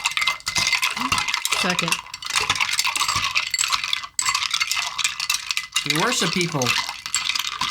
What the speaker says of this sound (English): I got like 30 seconds to sit and stir a drink.